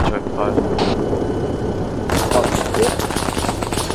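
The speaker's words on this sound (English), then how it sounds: "Yeah, we should open fire." Weapon fire in an Arma 3 Star Wars mod combat scene, rapid repeated shots over steady rumbling background noise, with people talking throughout.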